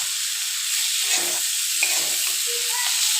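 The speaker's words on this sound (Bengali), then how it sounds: "এবার আমি দিয়ে দিব বেগুনটা, বেগুনটাও দিয়ে বেশ ভালো করে কষিয়ে নেব।" Eggplant stir-frying in hot oil in a Bengali home kitchen for a spicy fish-oil eggplant curry, giving a steady close sizzle with a few soft stirring scrapes, no voices.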